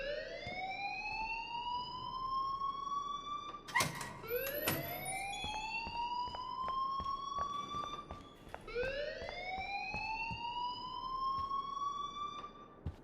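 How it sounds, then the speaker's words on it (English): An alarm in the video game Life is Strange sounds as a repeating rising electronic wail, cycling about every four seconds, with brief clattering noises partway through. It is loud and continuous, with no speech. "please turn off that alarm since that's your job"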